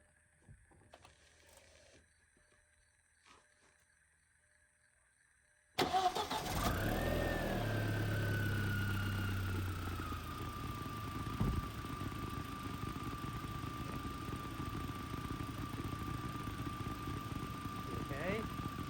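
A Volkswagen 1.8T engine cranks and catches after a few seconds of quiet garage sound, then settles into a steady, loud idle that runs on evenly with a high whine above it.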